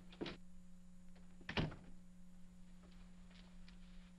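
An office door in a 1950 film noir is opened: two quiet thunks of a latch and handle, a light click then a heavier clunk, over a steady low hum, with faint footsteps after.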